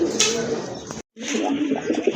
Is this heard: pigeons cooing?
yes